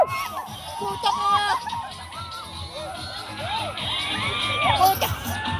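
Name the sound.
crowd cheering at a color fun run, like a concert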